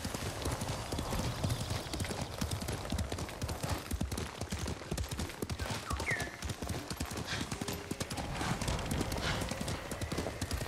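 Steady, rapid clip-clop of horse hooves in the Ghost of Tsushima video game as a horse travels along, dense and continuous throughout, with a brief whinny partway.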